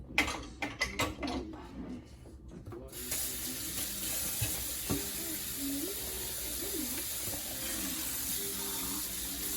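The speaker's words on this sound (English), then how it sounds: "Hate hand washing dishes." Dishes washed by hand in a kitchen sink under a running tap, starting with a few clinks and splashes, then a steady close rush of water continuing throughout.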